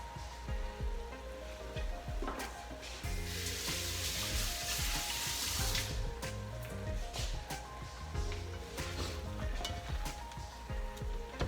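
Garlic cloves sizzling in a pot while cooking chicken soup: a steady, fairly loud crackling fry that swells in the middle, with clinking and stirring sounds on top.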